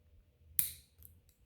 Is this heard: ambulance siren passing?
no